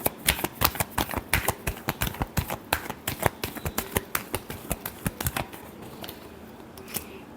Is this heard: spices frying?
no